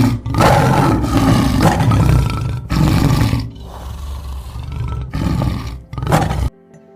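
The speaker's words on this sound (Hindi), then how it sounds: "क्या आपने टाइगर को दहाड़ते हुए देखा है?" A tiger roars loudly and close, several powerful, drawn-out bursts separated by brief pauses, with no talking.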